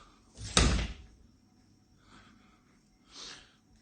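An entrance door unlocked with a key fob sounds with a sharp close thud, then quieter rustling and a softer knock a few seconds later, nearby and without talk.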